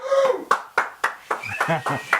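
Crowd applause at the open of a football radio show, a short burst of sharp separate claps, near and fairly loud, thinning out toward the end.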